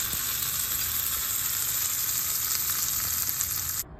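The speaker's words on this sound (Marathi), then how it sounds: "आता ही गरमच फोडणी आपण चटणीवर घालणार आहोत" A hot tempering with curry leaves hisses and sizzles as it is poured over tomato chutney for idli, a loud steady crackling fry that cuts off abruptly at the end.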